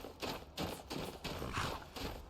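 A horse in the game Skyrim clip-clops in a steady, moderately loud rhythm of repeated hoof thuds, with no talk over it.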